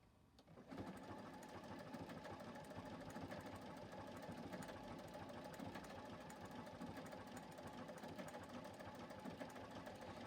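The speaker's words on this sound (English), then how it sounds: "I am going to stitch that circle just so that this lays in" A JUKI sewing machine runs steadily while stitching an appliqué circle on a pet Halloween costume, starting up after a brief pause and then humming with a fast, even mechanical chatter, close and continuous.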